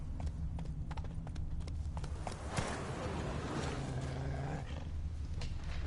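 Hooves clop rhythmically as a horse gallops in The Witcher 3 on PS4, steady and fairly loud over a low rumbling game soundtrack, with faint sharp clicks.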